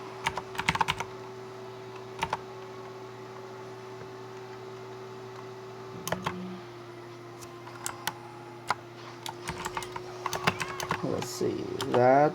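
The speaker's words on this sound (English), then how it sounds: "so I'll be typing" Sparse keystroke clicks on a computer keyboard come in scattered bursts, thickening into quicker typing near the end, while a steady hum runs underneath and a voice talks at times.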